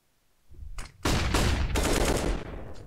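Flashbang grenade in the CS:GO video game bursting near a train: a sharp, loud pop, then a dense blast of noise that fills the rest of the moment, with no talk.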